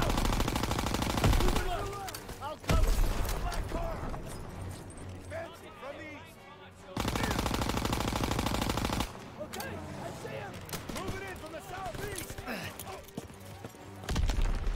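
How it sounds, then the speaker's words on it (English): Gunfire in the World War II shooter game Call of Duty: WWII, with dense bursts of automatic weapon fire and scattered shots running through most of the stretch, loud and close, mixed with game voices and chatter. "Who's shooting me from behind?"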